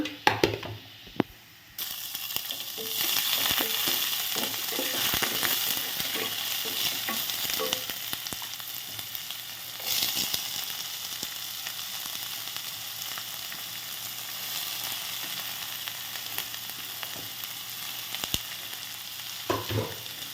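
Chopped onions fry and sizzle steadily in a hot pan for baingan bharta, a continuous bright hiss with occasional stirring clatter, loud and close, no one speaking.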